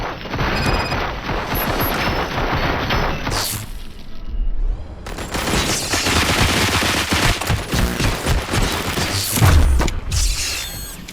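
Heavy gunfire from the RoboCop: Rogue City game. Rapid automatic bursts and booming shots fill the scene loudly and almost continuously, with a brief lull midway before the firing resumes, and no talking.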